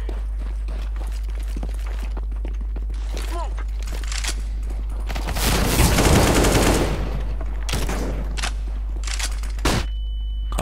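Bursts of AK rifle fire in Counter-Strike: Global Offensive, scattered single shots and short volleys building to a loud sustained fusillade mid-clip, with footsteps and a voice talking between shots.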